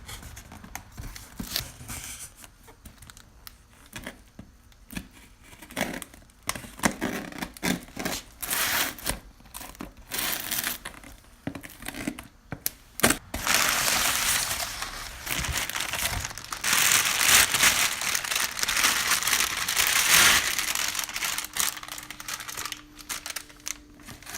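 Coilovers for a Miata are unpacked from heavy packaging, with close, continuous crinkling, rustling and tearing of plastic and paper, punctuated by clicks and handling knocks and growing louder in the second half.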